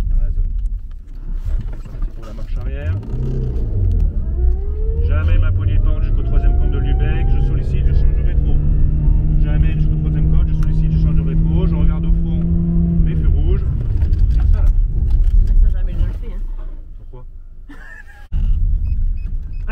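A car driven by a learner during a driving lesson, its engine rumbling steadily and rising through the gears close up, with voices talking over it in the cabin.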